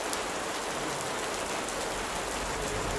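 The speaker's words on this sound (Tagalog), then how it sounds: "ambon na po. Pumapatak na." Light rain beginning to fall, a steady fine hiss of drops spread evenly across the whole stretch, fairly close and continuous with no voices over it.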